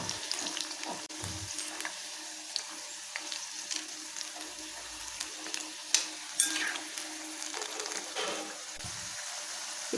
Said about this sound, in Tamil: அதனால் ஸ்லோ ஃப்ளேமில் வச்சு வேக விட்டு எடுக்கலாம்